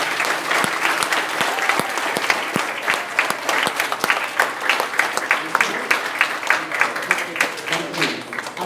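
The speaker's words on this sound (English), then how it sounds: "So why don't we give all of the different groups that have made that happen a big round of applause." An audience at an elementary school event gives a round of applause, many hands clapping at once in a lively, sustained burst with individual claps standing out before it tapers slightly.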